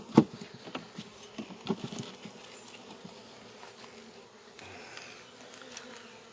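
Honeybees buzzing faintly around an open hive during an inspection, with a few soft knocks and patters from handling the frames.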